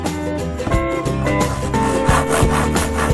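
A hand saw cutting wood, with rhythmic back-and-forth rasping strokes, close and fairly loud.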